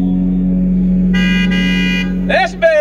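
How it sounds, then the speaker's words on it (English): Car horns blare together from parked cars at an outdoor drive-in show, answering a performer: a sustained loud honk, a brief gap, a second burst, then a close voice whooping excitedly. "if you're in your car sitting out there, you have to echo with your car horn"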